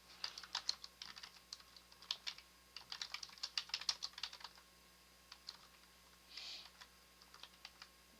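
Typing on a computer keyboard while writing a new Gmail message, quick close clicking keystrokes in bursts with short pauses, and no talk.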